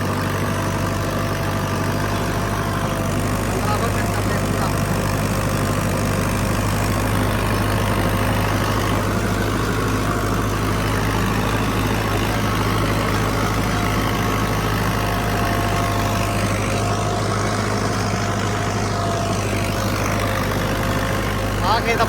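A Sonalika 60 tractor pulling a 21-tine cultivator through a potato field, its engine droning steadily and loudly throughout with a constant low hum.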